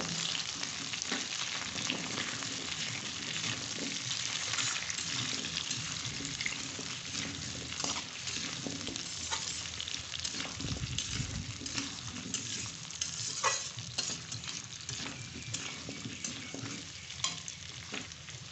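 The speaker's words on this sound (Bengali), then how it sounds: "আমি এবার কেটে রাখা ওলগুলো তেলে দিয়ে দিলাম।" Cut arum pieces frying in oil tempered with cumin seeds, a close, continuous sizzle with soft crackles and intermittent stirring scrapes, steady throughout and without speech.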